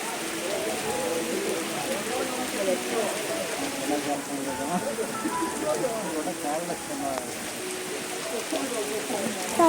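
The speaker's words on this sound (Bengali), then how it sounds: "তারপর খুব জোরে বৃষ্টি নেমে গেছিলো," Heavy rain falling steadily outdoors on a roadside, a dense continuous patter and hiss at moderate level with scattered drops and splashes throughout, no voices.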